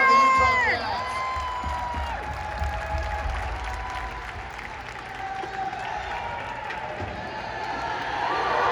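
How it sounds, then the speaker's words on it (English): Arena crowd applauding and cheering for Jordan Clarkson of the Utah Jazz at a Houston Rockets Filipino Heritage Night basketball game, a loud sustained roar of clapping and shouts that swells again toward the end. "big round of applause for Jordan Clarkson of the Utah Jazz"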